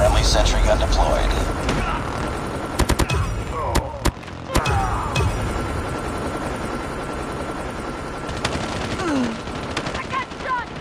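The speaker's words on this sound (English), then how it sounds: "Sentry gun deployed." A Call of Duty sentry gun deploys and fires on a small Shipment map, rapid gunfire bursts and sharp cracks over a steady mechanical drone, with voices and game callouts throughout.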